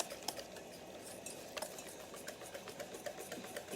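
Glaze being mixed with milk in a bowl: quiet, rapid clicking and scraping of a utensil against the bowl in a steady rhythm, close and soft.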